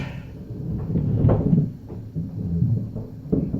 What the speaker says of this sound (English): Those chairs are really loud.